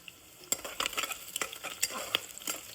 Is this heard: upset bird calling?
no